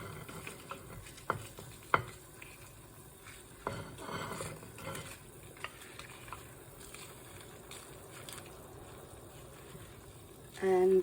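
Chili tossed into a pan of half-cooked beans sizzles steadily while a utensil stirs and scrapes, with occasional clunks against the pan.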